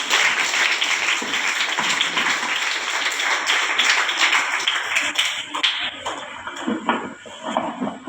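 School audience applauding a student before her recitation, dense clapping that thins out into a few scattered individual claps and taps toward the end.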